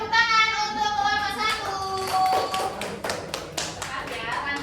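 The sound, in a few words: applause for a group in a classroom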